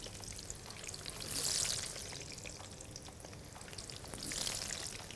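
Eggplant slices frying in oil, a soft continuous crackling sizzle heard close but fairly quiet, swelling twice with bursts of brighter hissing.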